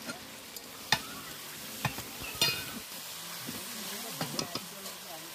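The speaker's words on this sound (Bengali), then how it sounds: "চিকেনটা আমি খুব অল্প তেলে কষিয়েছি, যার জন্য আমি একটু জল দিয়ে আবার কষিয়ে নিচ্ছি" Chicken stir-fried in a pan with a little water gives a soft, low sizzle broken by scattered spatula clinks and scrapes, quiet and close, with faint background murmurs.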